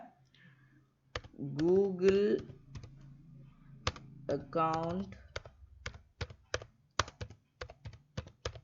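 Typing on a PC computer keyboard: sharp, separate key clicks in an uneven rhythm, heard close, with a voice speaking in the middle stretch.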